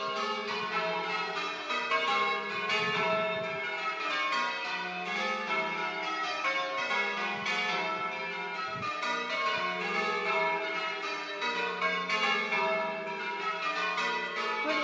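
Church bells peal continuously in Cookham, in overlapping rounds, a dense ringing chorus heard from a moderate distance outdoors with no talking.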